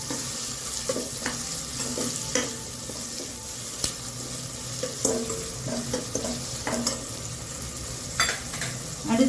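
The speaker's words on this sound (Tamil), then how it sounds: "இந்த இஞ்சி பூண்டு பேஸ்ட்டு எண்ணெயிலே கொஞ்சம் நல்லா வதங்கினா நல்லாயிருக்கும்." Ginger garlic paste sizzles and fries in hot oil, loud and close, with repeated stirring scrapes and clicks as it is moved around the pan.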